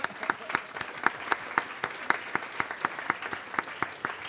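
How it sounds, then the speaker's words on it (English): A polite, measured round of applause from sixth-form graduates at a 2015 commencement ceremony: sparse, evenly spaced claps ringing out one by one in a hall, fairly quiet and steady, with no voices over it. "measured round of applause."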